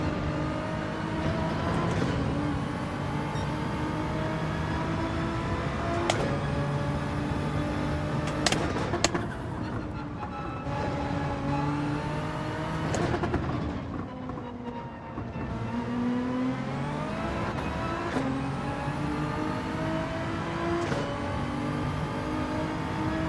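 A Nissan GT-R GR.3 race car engine in Gran Turismo 7 revs hard and continuously, rising through the gears with sharp drops at each upshift and braking point, steady and close throughout.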